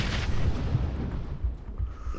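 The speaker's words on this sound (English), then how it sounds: "I'm throwing nade. Throw nade." Grenade blast in Battlegrounds, a sustained low, rumbling boom that rolls on for about two seconds with no clear sharp onset, loud and alone without talk.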